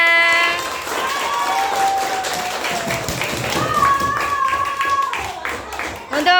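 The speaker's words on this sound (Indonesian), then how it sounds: "Tepuk tangan semuanya." Primary school pupils clap together in a fifth-grade classroom after a science lesson, a dense burst of hand claps heard alongside a voice talking and faint tonal sounds.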